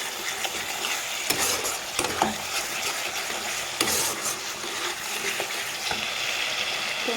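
Masala sizzles and fries in a pan while being sautéed for a potol and masoor dal curry, a continuous loud crackle broken by several sharp spatula scrapes and clinks against the pan.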